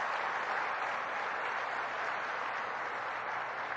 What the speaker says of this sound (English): That's what gets the round of applause in my mind.